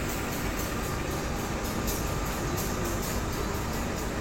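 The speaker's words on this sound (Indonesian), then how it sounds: "setelah ini kereta api Gajayana juga akan segera diberangkatkan." Gajayana passenger train at a busy Indonesian railway station crowded with holiday travelers, producing a loud, steady, close rumble of train machinery that persists without a break and with no talking.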